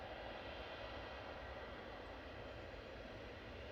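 A KLM Airbus A321neo airliner at Manchester Airport, heard as a steady, faint, broadband engine roar that holds evenly throughout with no voices.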